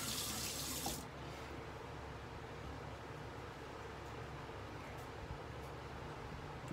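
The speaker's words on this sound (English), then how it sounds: "Just a little bit of rinse." Tap water running into a sink for a rinse after a shave, a strong splashing burst at first and then a steady, softer flow throughout.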